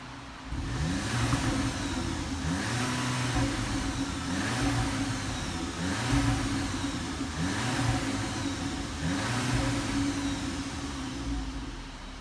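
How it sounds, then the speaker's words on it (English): A Volkswagen Polo GTI engine and exhaust running steadily close by, with a repeating rise-and-fall drone of revs roughly every two seconds and faint crackling pops and burbles layered over the low exhaust note. "You can hear a little bit of pops, a little bit of burbles and whatnot"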